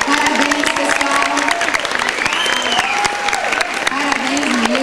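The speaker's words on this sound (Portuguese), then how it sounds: "eu gostaria de uma salva de palmas para todos os indicados e ganhadores" An audience at a children's awards ceremony applauds the nominees and winners with loud, dense clapping and some cheering, while a voice talks over the crowd and a few whistle-like tones sweep through.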